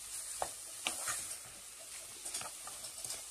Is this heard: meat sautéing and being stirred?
yes